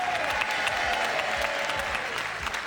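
A French TV game show studio audience claps steadily to welcome new contestants, a dense, lively round of applause sustained from start to finish with a faint tone sliding down beneath it.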